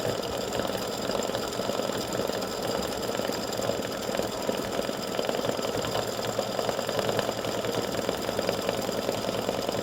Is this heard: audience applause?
no